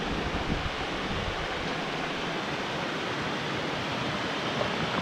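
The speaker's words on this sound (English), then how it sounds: "We're here today at the Darnley Cascade, and beside it is the old Darnley Mill." Steady rushing water of the Darnley Cascade waterfall beside the old Darnley Mill, a continuous broadband roar holding even and unbroken throughout, with no voices.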